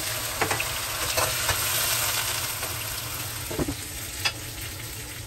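Spoon stirring a simmering pot of salted soup with spare ribs, shrimp paste and patola, giving a steady bubbling sizzle with a few sharp scraping clinks against the pot.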